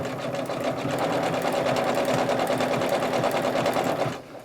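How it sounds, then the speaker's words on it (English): A sewing machine runs steadily while sewing a satin stitch on a laser-cut quilt kit, a close, continuous rapid whirring hum that stops near the end. "Now when you turn on a satin stitch, you do kind of have to pivot a little bit to try and keep it consistent,"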